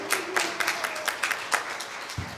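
Church congregation applauding, a short burst of scattered, fairly sparse claps that stay moderately close and thin out toward the end, with no talk over them.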